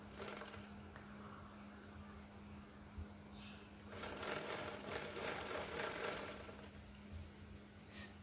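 A sewing machine stitches two layers of fabric lining together with a steady, low mechanical whir that swells louder through the middle stretch before settling back to a quieter hum.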